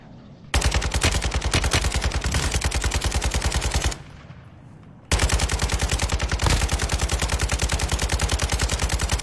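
Automatic gunfire in the video game Warzone: two long, loud, close bursts of rapid rattling shots separated by a brief pause, with no talking.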